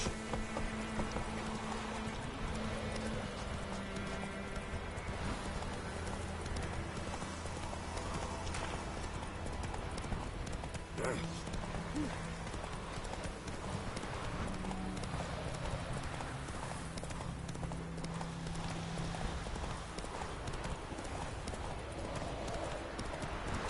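Roach, a horse in The Witcher 3: Wild Hunt, gallops with steady rhythmic clip-clop hoofbeats throughout, close and continuous, with a brief whinny and a voice speaking over the running.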